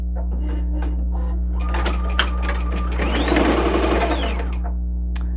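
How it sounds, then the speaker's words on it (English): A multi-needle embroidery machine stitches a design onto a hoodie, a steady rapid mechanical chatter with a rising whirring hum and clicking as the frame shifts, loud and close over a constant low drone. "I'm going to press start and we will let it stitch."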